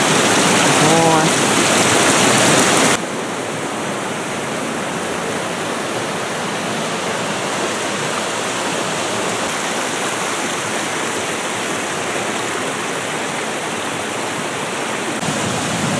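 A small waterfall at a stream confluence in the Verkhoyansk Range roars with steady, dense rushing water, loud and continuous throughout, with a brief louder wash at the start.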